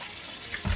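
Water runs from a tap onto meat being rinsed with vinegar for Haitian griots, a short splashing pour that rises near the end of the moment.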